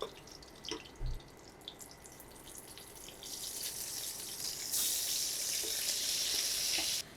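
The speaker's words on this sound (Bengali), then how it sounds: "আর এই সাইডে বেগুনগুলো ভেজে নিব এখন আমি।" Eggplant pieces go into hot oil after a couple of soft clinks and drips, and a bright hissing sizzle builds and then holds loud and steady to the end.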